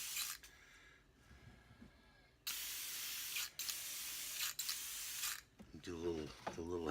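Spray can misting a tack coat of primer onto a painted saucer-men model, several short hissing bursts between quiet gaps, fairly close, with a voice speaking at the end.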